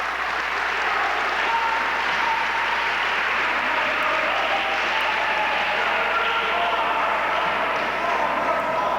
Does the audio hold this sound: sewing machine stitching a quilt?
no